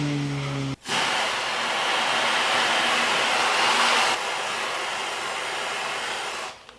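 A handheld hair dryer blows steadily and loudly on a wet phone, a brief click at start then a continuous rushing hiss that rises slightly midway before cutting off near the end.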